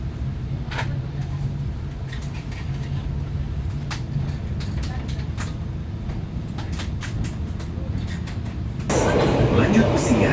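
The KA Mutiara passenger train runs just after leaving Surabaya Gubeng station, a steady low rumble heard from inside the carriage with scattered clicks and knocks, turning louder and hissier near the end.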